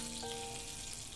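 Fish sizzles in oil over a low flame for fish keema, giving a steady, even hiss with no voices.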